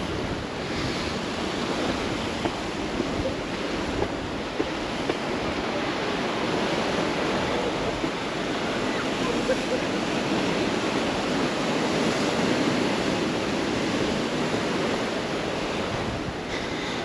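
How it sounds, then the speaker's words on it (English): Rough sea surf breaking on rocks and a beach at Palmanova, Mallorca, as a continuous loud roar of waves mixed with gusting wind and microphone wind noise, with no voices. "you can hear the sound of the waves on the rocks and the beach, and the wind is blowing"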